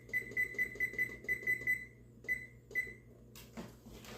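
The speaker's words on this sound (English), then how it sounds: "I'm going to put it on a timer, okay?" A kitchen timer is set while mac and cheese cooks, giving a quick run of sharp, evenly spaced electronic beeps, then two more single beeps after short pauses, ending with a faint clatter.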